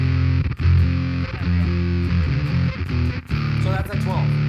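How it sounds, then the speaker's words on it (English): Bass guitar played through a Dirty Haggard Audio Degrade fuzz pedal, thick distorted notes sustaining and changing pitch with brief gaps, loud and close, with no talking. "That sounds like a fuzz and a distortion at the same time."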